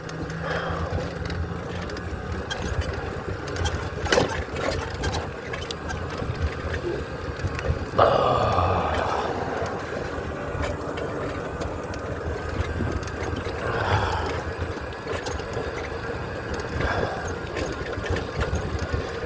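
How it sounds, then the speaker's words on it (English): A solar-powered tricycle rolls along on a trip, giving a steady whirring motor drone with rattles and clunks, including a louder burst midway, heard without any speech. "Love my solar trike."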